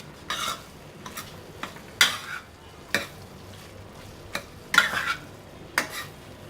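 Goat brain masala cooking with a tomato mixture in a pan, stirred in a slow irregular rhythm of utensil scrapes and clacks over a faint sizzle, close and fairly quiet.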